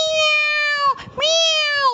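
A storyteller's voice imitates a cat meowing, two drawn-out, clear meows close to the microphone with a short break between them.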